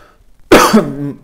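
A single harsh, throaty cough bursts out close and loud after a moment of near silence, trailing into a rough, voiced rasp from someone who is sick.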